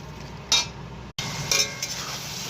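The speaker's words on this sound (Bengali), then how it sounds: "দেখো নেড়ে দিচ্ছি, হাতে আজকে মাখিনি, খুন্তি দিয়েই করেছি।" Dry chicken curry stirred with a metal spatula in a pan, two or three scraping, clinking strokes over a low steady background, close by, with a brief cut to silence partway through.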